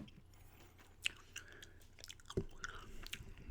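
Soft, close gum chewing with a few sharper wet clicks and smacks over a quiet background during a soft-spoken ramble, no talking.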